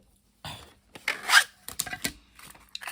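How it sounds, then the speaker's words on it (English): Small plastic diamond art drills pour out of a tray in short rattling bursts, a gritty pattering rush followed by a few lighter scattered clicks. "So you've dumped out your drills."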